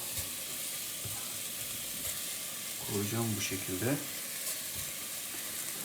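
Artichokes placed into a hot pot sizzle and fry briefly in two short bursts, heard under someone speaking Turkish.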